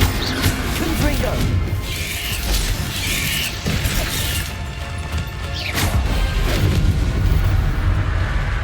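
Bursts of the Confringo fire spell go off in Hogwarts Legacy combat, booming and crackling repeatedly amid other spell effects, with shouted spell incantations over the din.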